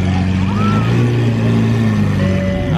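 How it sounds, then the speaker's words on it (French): A Bugatti Chiron Super Sport engine drones loud and steady at an outdoor hypercar owners' gathering, a continuous deep rumble filling the whole clip, with voices faint underneath. "La Bugatti Chiron Super Sport. J'arrive pas à parler à cause de lui."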